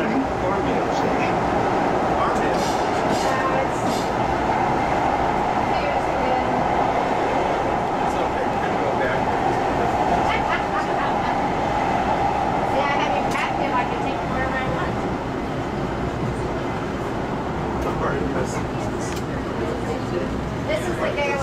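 A Metro Expo Line light rail train runs inbound near La Cienega/Jefferson, heard from inside as a steady rumbling roar of wheels and motors, with people talking over it throughout.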